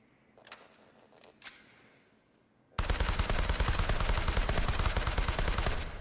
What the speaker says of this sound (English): I love shooting with suppressors in this game.